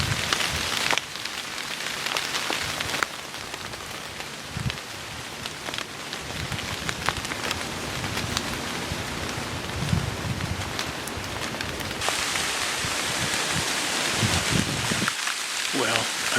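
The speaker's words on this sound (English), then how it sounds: "hopefully don't get too soaked before the rain quits" Steady rain pours onto a hunting stand in the Minnesota woods during a bear hunt, a dense, continuous patter with heavier drumming bursts that persists loudly for the whole stretch.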